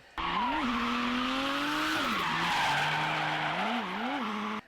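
Sustained tire squeal from a drifting car in the video game CarX Drift Racing 2, a tonal screech rising and falling in pitch over an engine roar, without a break.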